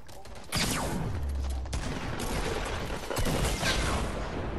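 Video game gunfire rattles nonstop in dense rapid bursts, loud and close, with sharp cracks and whizzing streaks layered over continuous shooting.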